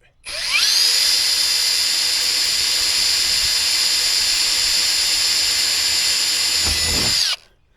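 A power drill whines at high speed for several seconds, starting up, holding a steady loud pitch, then spinning down abruptly.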